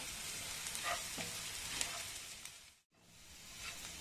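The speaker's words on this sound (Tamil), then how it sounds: "போட்டுட்டு நல்லா கிளறி விடுங்க." Masala powder stirred and fried in oil with ginger-garlic paste for an egg gravy: a soft, close sizzle with light scraping strokes, fairly quiet, cut by a brief silence partway through.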